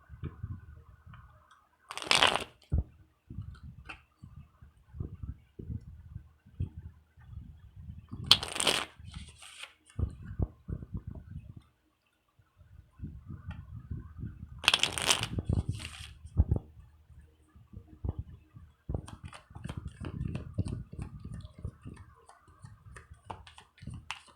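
Light Seers tarot cards being shuffled close up in several short riffling bursts, separated by softer handling, tapping and quiet card clicks.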